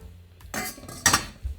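Pieces of seasoned-chicken prep clatter into a bowl, a few quick metallic clinks and knocks in close succession, near and fairly loud with no talk.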